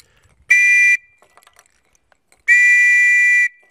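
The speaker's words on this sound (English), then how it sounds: "A common whistle is the girl guide whistle, which actually, some of these sound like a varied thrush." A girl guide whistle gives two shrill, steady blasts, the first short and the second about a second long, separated by quiet. Its pure tone resembles a varied thrush's song, loud and close with no voices.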